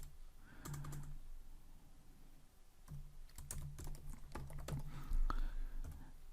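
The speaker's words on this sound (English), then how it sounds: "while I'm typing" Typing on a computer keyboard while coding in Kotlin, with irregular clusters of close, quiet key clicks and short pauses between bursts.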